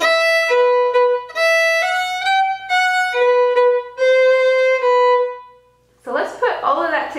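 Fiddle plays the second part of a tune, a run of clear sustained bowed notes stepping through a short melodic phrase, close and solo, followed by a brief burst of speech at the end.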